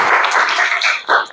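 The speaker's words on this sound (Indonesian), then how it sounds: "Tepuk tangan buat kita semua." A classroom of students gives a short burst of clapping, a dense patter lasting just over a second and ending with one final louder swell.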